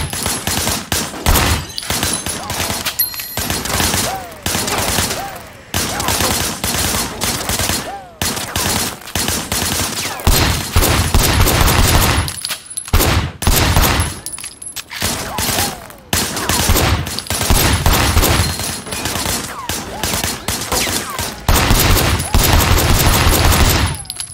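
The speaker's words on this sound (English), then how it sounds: "I want you to put some bullets in a few things." Gunfire from the video game Sleeping Dogs, with dense, loud bursts of automatic fire and single shots that go on almost without a break, including a few brief pauses.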